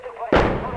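An artillery shell fired from regime checkpoints strikes the town of Al-Lataminah in the northern Hama countryside, Syria: one sudden heavy boom that lands abruptly and rolls on as a loud, sustained rumble.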